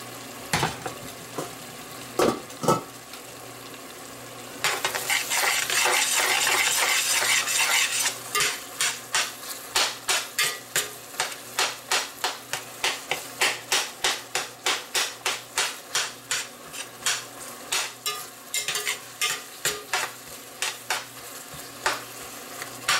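Pork belly and mung beans sautéed in oil, a steady sizzle under repeated rhythmic scraping and clinking of a utensil against the pan, close and clear, with no talking.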